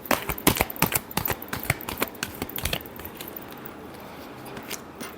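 Tarot cards being shuffled by hand for a Virgo reading, a rapid run of crisp riffling clicks and flutters close up for about three seconds, then fading into quiet room tone.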